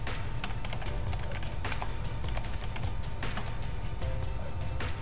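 Steady, dense keystrokes as credentials are typed on a computer keyboard, close and continuous for about five seconds with a low background hum and no talking.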